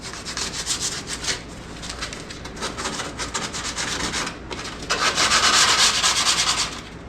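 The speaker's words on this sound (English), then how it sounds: "sand your fiberglass before it fully dries" Fiberglass body filler on a '57 Chevy rocker patch is hand sanded with close, rhythmic rasping strokes, building to a louder, steady scrubbing run near the end with no talk.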